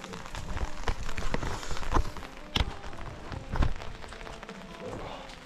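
Persistent morning rain hisses nearby while louder irregular thumps and rustles, like footsteps and movement, break through several times over the steady wash of drops.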